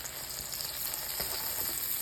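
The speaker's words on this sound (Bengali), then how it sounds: "এখন চিংড়ি মাছটা হয়ে গেছে, দুই সাইডে একটু একটু করে ভাজা হয়েছে" Shrimp frying in a pan, browned on both sides, crackle in an even, close, quiet sizzle that holds steady throughout, with no voices.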